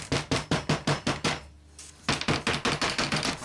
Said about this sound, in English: Best to give it a tap around with the mallet.